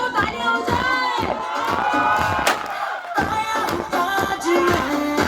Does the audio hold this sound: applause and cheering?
yes